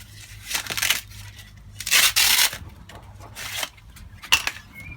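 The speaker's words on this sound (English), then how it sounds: "I'll just unwrap it." Plastic wrapping being pulled and crinkled off a replacement pipe part, a few bursts of crackling and tearing rustle up close, with quiet pauses between.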